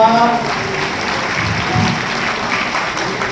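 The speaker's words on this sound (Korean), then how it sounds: "박수 부탁드립니다." Wedding guests at a reception hall in Yangjae, Seoul, applaud with dense, steady clapping that stays loud and even throughout, with a faint voice at the start.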